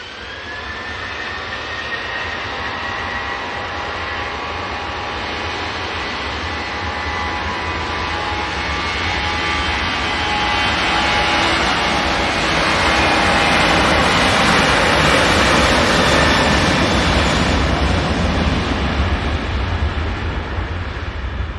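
A Ryanair airliner departing Manchester Airport for Marrakesh gives a sustained jet roar that slowly swells louder and peaks near the end, heard alone with no voices.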